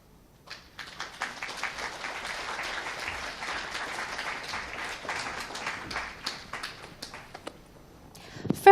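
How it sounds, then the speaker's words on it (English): An audience at a career day event applauds to welcome panelists onto the stage, steady clapping that swells and holds for several seconds before thinning out. "let's give a big round of applause to invite the panelists on stage"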